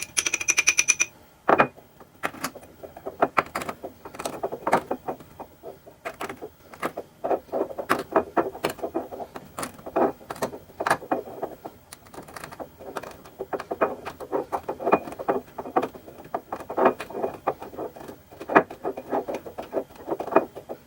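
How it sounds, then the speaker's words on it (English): Tablets being crushed into a fine powder for homemade yogurt, a steady run of sharp grinding and tapping crunches repeating close up throughout, with no talking. "so that leaves me more room to crush the tablets"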